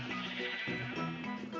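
Sheep in the Minecraft video game bleating, a short wavering bleat followed by another, clear and close with no talking.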